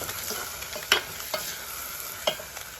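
Maggi noodles being stirred in a hot pan, with a soft continuous sizzle and a few sharp scrapes and knocks of the spoon spaced out, close and fairly quiet, with no talk.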